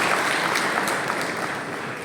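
An audience at a conference applauds loudly for a chief guest, a dense, steady clapping that fades slightly toward the end of a brief stretch.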